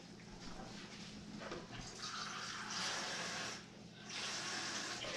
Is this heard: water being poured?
yes